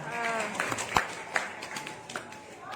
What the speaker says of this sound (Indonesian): Tepuk tangan dong buat teteh kita